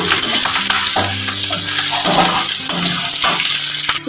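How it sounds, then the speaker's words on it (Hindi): Green chillies frying in hot oil for village-style poha namkeen, a loud, close, continuous sizzle with dense popping and spitting crackles. "देखिए मेरा मिर्च अच्छे से फ्राई हो गया"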